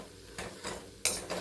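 Mango rice ingredients being sautéed and stirred in a pan, with soft sizzling and a few distinct scraping strokes of a spoon against the metal, close and quiet, with no talking.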